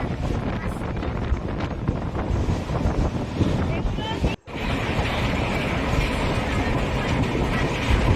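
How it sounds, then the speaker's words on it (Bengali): A moving passenger train on the way to Digha gives a constant loud rumble heard from inside the carriage, with wind buffeting and one brief dropout midway. "আমরা ট্রেনে উঠে পড়েছি"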